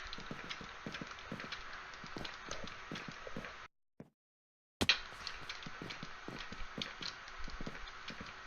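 A horse gallops in Minecraft with quick, rhythmic clip-clop hoofbeats at a steady pace. The hoofbeats cut out into a brief silence, then resume just as before with no voices.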